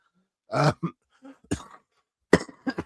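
A few harsh, wet coughs in quick bursts, close and loud, separated by short pauses, with no talking.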